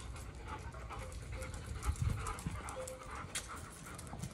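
A Belgian Malinois, two shepherds and a Rottweiler pant while playing king of the ball in a yard, close rapid breathing with a few soft whimpers and scuffles.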